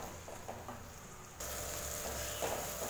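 Tomatoes and shallots sautéing in a pan over a low flame, giving a faint, steady sizzle that grows a little louder partway through.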